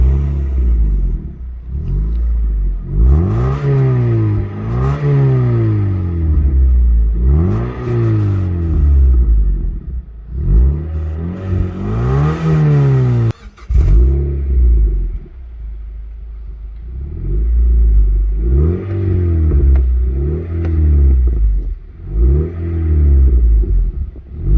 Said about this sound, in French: Démarrage du 2 litres avec une sortie d'échappement cobalt.